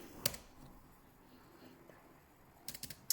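Computer keyboard on an Ubuntu 18.04 machine as a command is typed, with a short burst of quick keystrokes at the start and another rapid cluster near the end, separated by quiet.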